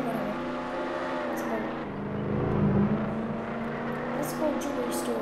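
A Ferrari sports car engine drones steadily while driving in the Roblox Jailbreak video game, a sustained mid-pitched hum that swells briefly in the middle, heard under a person talking.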